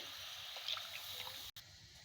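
Water pours into a cooking pot for chicken biryani in a steady, faint, hissing trickle that breaks off for a moment and then resumes, with no talking.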